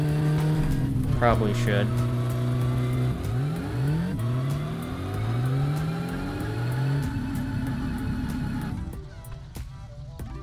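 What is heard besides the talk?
Satsuma car engine with twin carburetor revving, video game My Summer Car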